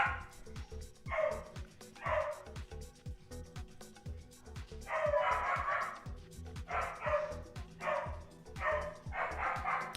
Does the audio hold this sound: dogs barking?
yes